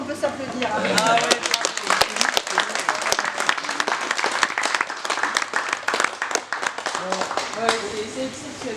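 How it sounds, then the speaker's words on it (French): A group applauding during a prefect's visit to a company in Moreuil, a dense, lively round of clapping lasting several seconds, with voices and cheers mixed in. "moi je crois qu'on peut s'applaudir."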